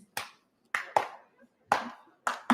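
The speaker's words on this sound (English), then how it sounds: "the front row over here, you're going to clap like this" Crowd at a live poetry and music concert claps in slow, loose unison, six sharp beats with short pauses between, each clap ringing briefly in a large room.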